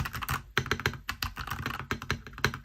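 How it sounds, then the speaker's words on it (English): Fast, uneven typing on a NuPhy Halo65 mechanical keyboard, a close run of deep, thocky keystrokes with brief pauses between bursts. "it is a thocky type of keyboard. It's a nice stock sound. I like the sound of it."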